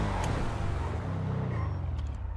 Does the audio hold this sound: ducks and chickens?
no